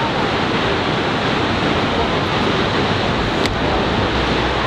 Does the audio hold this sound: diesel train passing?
no